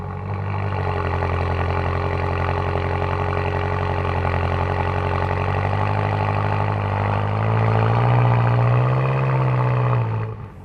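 A BMW M6 Gran Coupe fires up and settles into a deep, steady idle, swelling briefly with a rev near the end before cutting off; loud and close, no voices.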